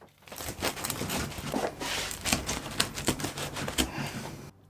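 A knife or cutter works through Ninja Woodfire pizzas, one from the grill and one from the oven, making a busy run of crisp crackling, scraping crunches and taps up close, continuous with no talking.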